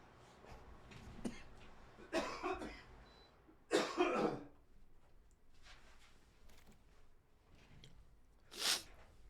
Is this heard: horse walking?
no